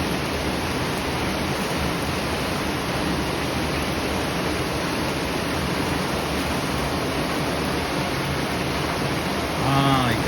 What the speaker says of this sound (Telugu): డ్రమ్ములు కావు, వర్షం నీళ్ళు పడి రేకుల మీద పడి ఈ సౌండ్